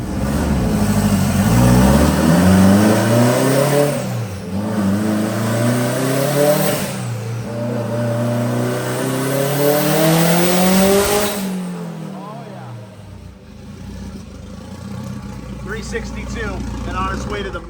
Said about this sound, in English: we got VTEC working